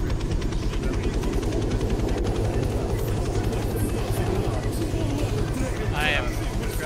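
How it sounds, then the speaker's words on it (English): Loud, constant helicopter engine and rotor noise with a steady pulsing beat fills the whole stretch, with people talking over it. "All right, let's get out of the helicopter."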